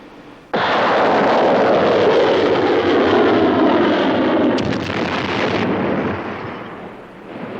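Video-game launch of an MM-38 Exocet anti-ship missile from a warship, a sudden loud roaring blast that sustains for several seconds, a sharp crackle partway through, then a slowly fading rumble.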